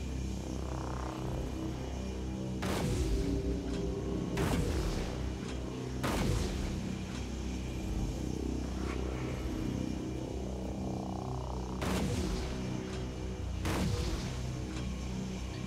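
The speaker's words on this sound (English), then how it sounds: "He may also be trying to lure me over to where he knows his swarm launchers are, seeing as I just took a swarm launcher hit" Swarm launcher missiles striking a dropship in the video game DUST, heard as five sharp explosive bursts at uneven intervals over the aircraft's constant low engine hum.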